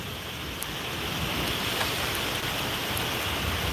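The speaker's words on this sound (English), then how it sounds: "right now we just got some rain and some killer lightning" Steady rain falling during a thunderstorm with lightning, a continuous even hiss of drops with faint scattered taps, no talking.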